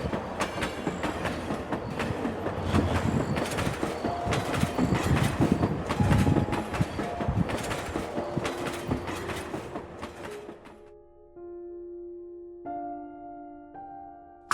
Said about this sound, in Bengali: ট্রেন প্ল্যাটফর্মে এসে থেমে যায়।